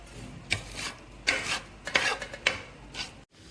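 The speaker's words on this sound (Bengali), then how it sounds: "আর এই যে ফার্নিচার হচ্ছে যে এই ঘষা মাজা চলতেছে" Wooden furniture is sanded and scrubbed during finishing, heard as several rasping strokes in uneven bursts, close and moderately loud with short pauses between.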